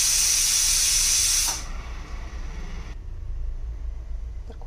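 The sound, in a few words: pressure cooker whistle releasing steam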